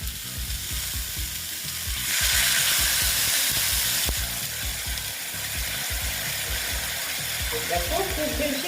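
Water poured into a pan of drumstick stems cooking in a vegetarian curry, setting off a loud burst of hissing steam over the ongoing frying sizzle, then settling back to a steady crackle.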